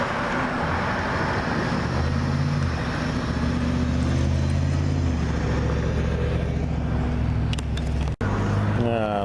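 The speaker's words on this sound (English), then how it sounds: "any one of these cars coming up the road now" Cars drive up a road at night toward a blinking yellow light, a steady engine and tyre rumble rising and falling as vehicles approach and pass, with a person talking over the traffic.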